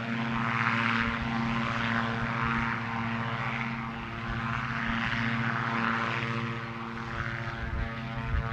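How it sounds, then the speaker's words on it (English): A Diamond DA-42 twin-engine propeller aircraft flies near Gloucestershire Airport, its steady droning buzz holding loud and continuous throughout, rising and falling slightly as it passes, with no voices. "Oh, the sound of a DA-42."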